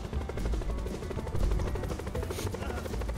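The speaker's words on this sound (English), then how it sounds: "There's another helicopter flying through the turbo." Helicopter in the Black Ops 4 Blackout battle royale game, a steady rhythmic rotor chop with a low engine drone running continuously under busy game noise and some talk.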